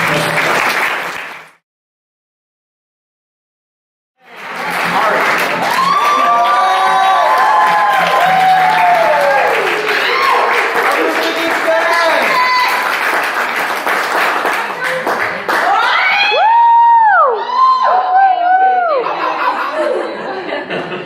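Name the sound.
congregation clapping in church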